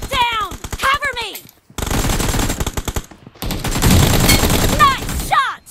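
Gunfire in PUBG Mobile, with rapid automatic bursts cracking out in dense volleys, loud and close, interrupted by brief pauses and chirpy game announcer voice effects.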